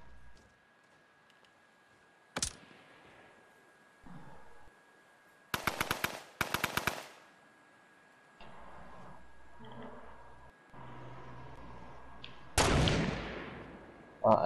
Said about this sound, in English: I shot him one with sniper